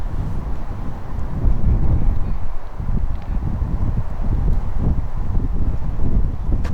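Steady wind buffets and rumbles across the microphone on a disc golf course, a low continuous roar with gusty swells and no voices.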